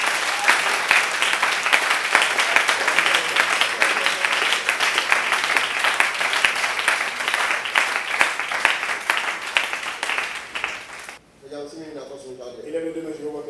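A church congregation at a Sunday service claps steadily and loudly for about eleven seconds, then the applause cuts off and a voice speaks alone.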